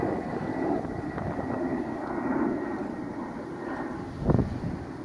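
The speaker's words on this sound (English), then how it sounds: "Airplanes overhead." Low, steady rumble of airplanes flying overhead near Queens, distant and continuous with a faint wind-like wash and a brief thump near the end, no voices.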